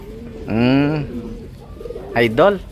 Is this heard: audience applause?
no